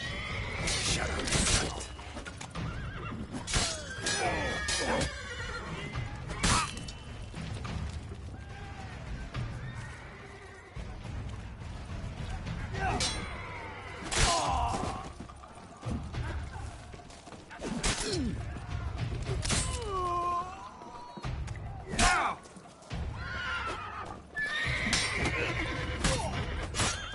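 Horses whinny and neigh repeatedly amid clopping hooves, thuds and whooshing game effects in The Witcher 3: Blood and Wine, busy and fairly loud throughout.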